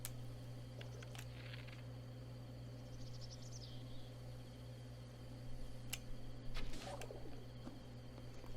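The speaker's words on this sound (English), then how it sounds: "Oh, hello, bird." A bird coos softly several times in The Legend of Zelda: Breath of the Wild, over a constant low ambient hum with faint ticking game sounds, no voices.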